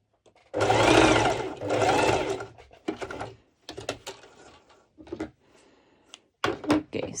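A sewing machine stitches a stretchy mesh halter neck top, two sustained runs of whirring at the start, then shorter stop-start bursts with small clicks and fabric handling between them, close and fairly loud.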